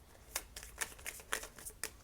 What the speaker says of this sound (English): Shuffle one more time, see if there's any more cards that want to come out.